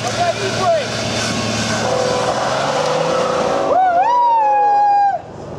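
A car engine roars at full throttle with the handbrake on for a burnout, a loud sustained drone that climbs into a high whining rev before cutting off sharply near the end.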